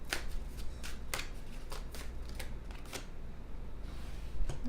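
Deck of tarot cards being shuffled close by, with a quick series of soft riffling flicks and slaps that repeat irregularly against a quiet background.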